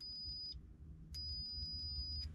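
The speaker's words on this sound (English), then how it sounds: "you use one of these multimeters and you set it to right here where it's gonna beep" A high, steady electronic beep sounds twice with a brief gap between, the second tone lasting longer, over a low background hum.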